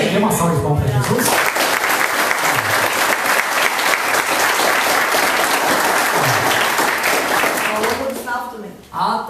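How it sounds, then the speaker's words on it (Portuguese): A church congregation gives sustained, dense applause for nearly the whole stretch, loud and close, then it tapers off into a brief voice at the end. "Dê uma salva de palmas para Jesus."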